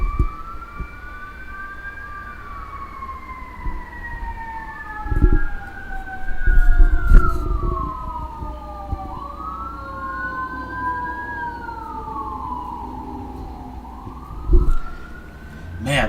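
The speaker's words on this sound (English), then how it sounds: "fire trucks, ambulances going by" Fire truck and ambulance sirens pass by outdoors, several overlapping wailing tones sweeping up and down at moderate distance, with passing engine rumble and occasional bumps and low noises nearby.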